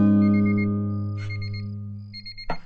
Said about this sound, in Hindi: कहीं पर अलार्म लगा कर वो सो गया होगा कुंभकरण।